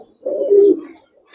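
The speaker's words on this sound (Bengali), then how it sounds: "এই যে এক পেয়ার তানবি কবুতর কিংবা গেন্দা কবুতর" A pair of Tanbi or Genda pigeons at a pigeon farm keeping Giribaz and coloured pigeons gives one soft, close throaty coo of about half a second, with quiet surroundings before and after.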